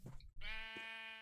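A single sheep bleats in the Minecraft video game, a short wavering tonal cry after a brief low rustle, close and clear with no talking.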